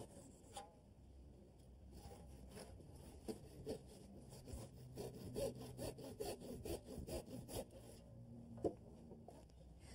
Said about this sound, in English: But I want to finish up the underside using my hand saw.